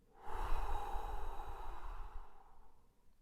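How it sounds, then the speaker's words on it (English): One slow, audible exhale follows a brief intake of breath, a soft breathy whoosh that swells and then fades away, close and quiet. "Breathing in the flower and blowing out the candle."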